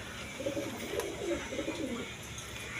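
Indian Bombay pigeons cooing softly in repeated low rolling coos, fairly faint against a steady background hiss, with no voices present.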